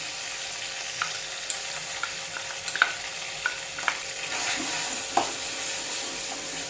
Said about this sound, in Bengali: পুরো মশলাটা এবার একটু কষিয়ে নিচ্ছি